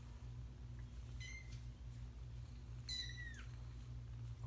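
A foster kitten meows twice, a short call and then a longer, rising and falling complaint, fairly close over a steady low hum with no talking.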